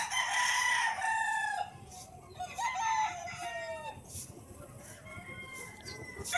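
Gamefarm stags crowing on a farm, several overlapping crows from different birds, some near and loud, others farther off, with clucking between them.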